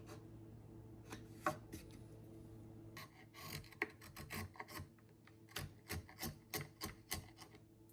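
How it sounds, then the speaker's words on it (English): Hand tools chop and pare at wood while a rabbet and mortise are cut for a box handle, giving irregular sharp knocks and scraping taps, some spaced apart and some in quick clusters, close up but quiet. "Then I just quickly cut out the rabbet and mortise for a handle."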